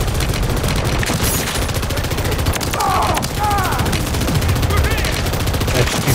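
Dense, continuous rattling gunfire from Modern Warfare 3 fills the whole stretch, with overlapping rapid shots in a heated firefight and faint game voices under the barrage.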